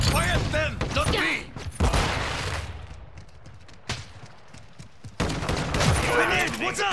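Rapid gunfire bursts and fusillades in Call of Duty: Modern Warfare II, Kill Confirmed on the Shipment map, loud and close, with crackling shots, a quieter lull midway, and shouted voices mixed in.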